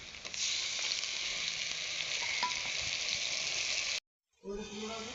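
Chopped onion, green chilli, garlic and ginger paste with ground spices sauté in hot oil for a snakehead fish curry, a dense steady sizzle that cuts out abruptly near the end before resuming.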